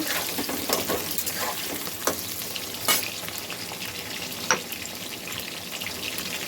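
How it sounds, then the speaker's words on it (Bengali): Potatoes fry in a pan for a mango chicken dish, a steady close sizzle broken by a few sharp spatula clinks and scrapes, with no talking. "আলুটা ভেজে নিচ্ছি।"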